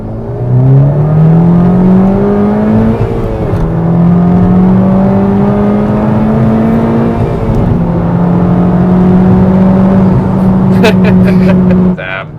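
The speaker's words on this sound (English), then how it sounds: "let's do a second gear pull, see what it's like" A modified Honda Civic Type R pulls hard through second gear, its engine note rising steadily in loud sweeps with a brief dip at a shift point, close and continuous before cutting off sharply.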